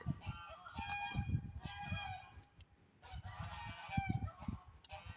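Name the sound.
geese honking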